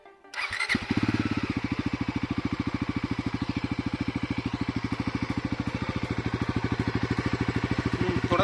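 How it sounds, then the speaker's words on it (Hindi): A Bajaj Pulsar NS400Z motorcycle starts up and settles into a loud, close idle, its exhaust thumping in a fast, even pulse with no talk over it. "एक बार आपको एग्जॉस्ट नोट सुना देता हूँ"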